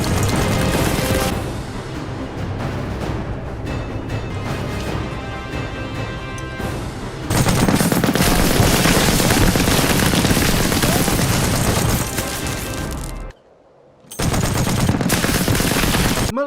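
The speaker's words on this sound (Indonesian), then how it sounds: "Prajurit Danila yang dijuluki si penyihir dengan senjata mesinnya membabat habis pasukan Jerman." Sustained machine gun fire in a war film battle against German infantry, loud bursts and crashes running nearly continuously with a brief drop near the end before resuming.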